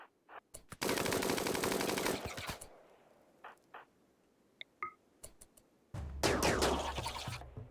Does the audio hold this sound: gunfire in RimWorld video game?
yes